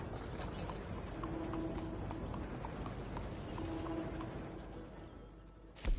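Horse hooves clip-clop at a steady walking pace in Red Dead Redemption 2, fairly quiet and accompanied by faint mechanical creaks, ending in a brief louder knock.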